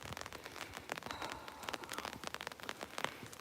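Light rain falls at night outside a hotel in Japan, a soft, scattered patter of drops crackling on surfaces, faint and even, with no voices.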